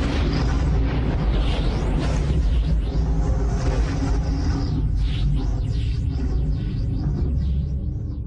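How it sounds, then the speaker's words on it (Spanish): A thunder and lightning storm on Jupiter: a loud, continuous deep rumble with rolling booms and sweeping whooshes throughout, no voices. "Todas esas nubes mantecosas han provocado una tormenta eléctrica."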